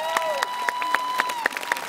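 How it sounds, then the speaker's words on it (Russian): Audience applause at a concert with rhythmic, evenly spaced clapping, while a sustained tone from a sliding instrument note runs underneath. "ваши аплодисменты!"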